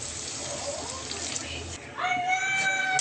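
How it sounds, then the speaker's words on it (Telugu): Water poured into a pan of frying egg tomato curry, a steady splashing pour that rises to a louder, hissing sizzle halfway through, close and continuous. "ఇప్పుడు కొద్దిగా వాటర్ వేసేసుకుందాం."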